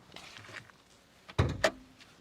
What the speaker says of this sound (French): Écoutez le bruit de claquement de porte.